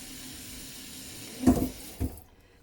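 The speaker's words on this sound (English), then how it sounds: "Spray nozzle is about the same intensity and just a quick water." A spray nozzle at a sink gives a steady hiss of water over a tray of sunflower sprouts, then a couple of louder splashy bursts before the flow cuts off into near silence.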